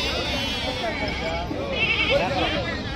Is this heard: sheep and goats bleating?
yes